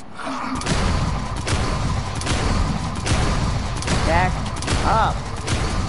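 Rapid gunfire from a Dead Island 2 zombie fight on PS5, a dense clattering volley of shots and thumps running through the whole stretch beneath continual talk.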